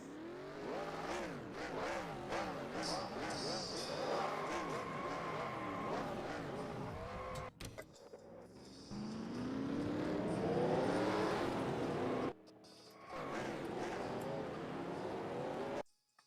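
Race car engines roar in NASCAR Racing 2003 at Richmond, several cars revving, shifting and sweeping past in loud waves, with a brief drop and a clean cut-off near the end.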